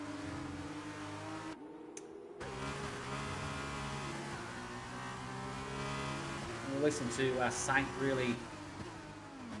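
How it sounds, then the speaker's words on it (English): Race car engines revving hard and shifting during a close wheel-to-wheel battle in a sim racing event set at Bahrain, with rising and falling revs under continuous excited commentary. "really revving the hell out of this car"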